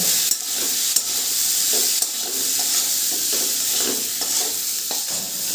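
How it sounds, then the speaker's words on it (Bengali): Oil sizzles and hisses steadily in a pan as elephant foot yam and vegetables fry while a utensil stirs, scraping and clicking now and then, close by with no voices. "এবার এটাকে ভালো করে ভেজে নেব"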